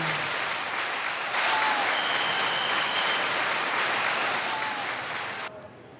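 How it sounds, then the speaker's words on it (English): Spectators at a swim meet cheer and clap for a finished heat, a loud continuous wash of applause echoing in an indoor pool hall that fades slightly toward the end. "Let's give cheers."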